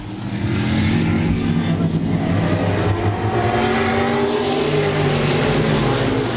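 Race cars roar around the back stretch of the Laird Raceway oval during a Thursday night heat, with a dense, continuous engine drone that holds steady and loud throughout and no pauses.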